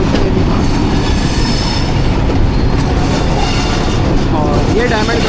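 A passenger express train rolling over a diamond crossing near Malakwal Junction in Pakistan, with loud, steady wheel rumble and clatter close by, and a squeal of wheels rising toward the end.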